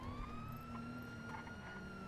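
Police car sirens in a role-play video game, a steady wailing tone held quietly in the background with no talk over it.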